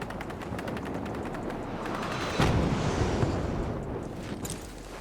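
Sniper and other gunfire in a video game, a dense, rumbling barrage of shots and blasts with a sharper crack near the middle, sustained and noisy throughout.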